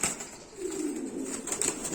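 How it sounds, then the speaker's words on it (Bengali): An American fancy pigeon coos softly in a low murmur while wings flutter briefly nearby, short and close. "এই যে আমি কবুতরটা দেখাচ্ছি"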